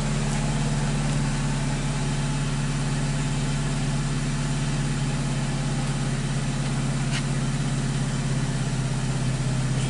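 A BMW 316i E90 idles just after a cold start, a steady low engine drone with an even hum and faint exhaust rumble, continuous and close, no talking.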